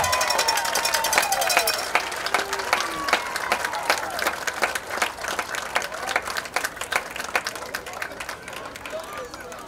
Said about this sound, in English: Please stand and give a round of applause.